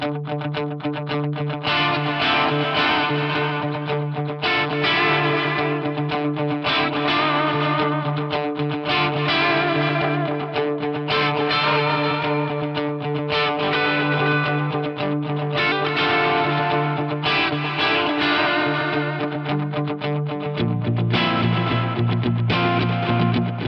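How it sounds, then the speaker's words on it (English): A Source Audio Nemesis ADT guitar pedal on a drum echo setting plays a distorted, effect-heavy repeating pattern continuously, echoing and pulsing with a chorus-like wash, with no talking. "Let you hear some more of that drum echo."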